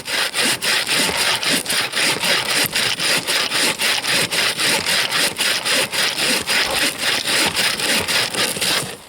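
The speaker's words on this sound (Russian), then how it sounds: "А пилка работает как надо." A bow saw cuts through wood in frozen taiga at about minus fifty, its rasping strokes close, loud and steadily rhythmic, back and forth roughly twice per second with no speech.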